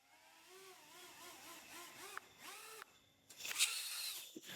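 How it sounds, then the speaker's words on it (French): A tiny 27-gram flying machine's four small motors spin up, making a faint, pulsing whine that rises and falls in repeated sweeps, followed by a brief louder hissing burst near the end. "Chacun des moteurs a 90 grammes de poussée."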